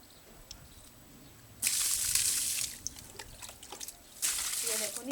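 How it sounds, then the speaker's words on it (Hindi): Water poured onto garden plants and soil, likely tomato plants in a village setting, comes in two bursts of splashing hiss, with quieter gaps between them and faint nearby talk. "ये देखो, नीचे भी पानी डाल दिया,"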